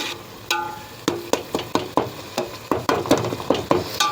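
Ingredients for South Indian fish kulambu frying in a pan, a soft sizzle broken by about a dozen sharp spatula scrapes and clacks in an irregular stirring rhythm, close and unaccompanied by talk.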